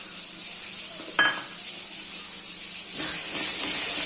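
Spices and tomato paste sauté in oil for a crab and mushroom dish: an even hiss of sizzling with one sharp metallic clink early on, the frying swelling slightly louder toward the end.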